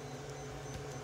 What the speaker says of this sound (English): And sorry for the noise. I got the printer going